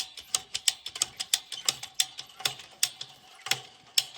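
A fence stretcher ratcheting to tighten fence wire, with a steady series of sharp, close metallic clicks repeating roughly every quarter second, each fading quickly.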